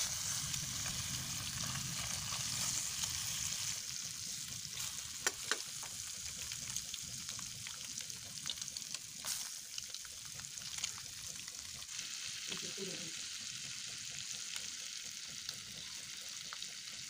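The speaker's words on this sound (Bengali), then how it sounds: "মাঝখান দিয়ে দুভাগ করে তারপরে এখন ভেজে নেব তেলের মধ্যে" Halved eggs fry in oil seasoned with salt and turmeric, a steady crackling sizzle running throughout, with occasional louder spatters and the scrape of a utensil stirring the pan.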